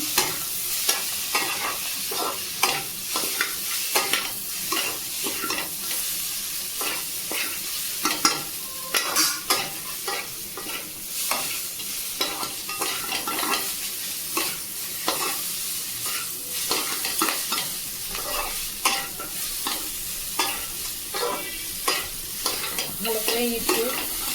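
Maggi noodles are stirred and tossed in a wok over constant sizzling, with rapid, repeated scraping and clattering of the spatula against the metal throughout.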